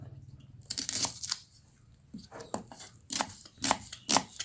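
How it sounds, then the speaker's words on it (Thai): A knife slicing Burmese shallots on a cutting board for a Thai glass-noodle salad, several crisp chopping strokes in short bursts with pauses between, close up and alone. "หั่นครึ่งวงกลมก็ได้พ่อ เออกินง่ายดี จะก็มาซอยเนาะ"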